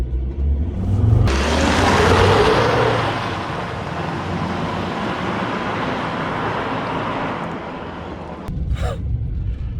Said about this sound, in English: It's crazy how much it accelerates in that mode.